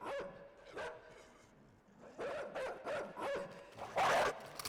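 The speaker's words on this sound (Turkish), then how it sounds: "Köpek uyandı mevzuya." A dog in the video game Inside barks in short repeated bursts, with a whimpering yip near the end, fairly close and with no talking over it.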